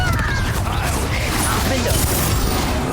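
Blasting spell effects crash and rumble continuously in the Hogwarts Legacy video game, with dense mechanical clatter and booms filling the whole stretch.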